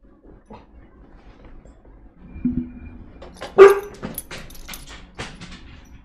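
Small dog giving a few short yips and barks in the middle of a quiet indoor room, close and fairly loud, with light rustling before and after.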